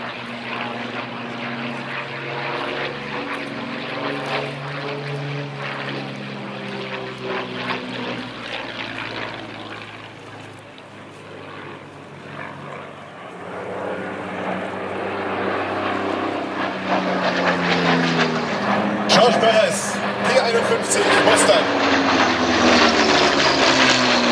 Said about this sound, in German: Sonores Krabbeln dieses 12-Zylinder Allison V-17 mit 1200 PS.